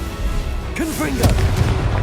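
Confringo spell blast from Hogwarts Legacy, a fiery explosive burst with a deep boom and whooshing tail, heard amid busy game combat noise and voice effects.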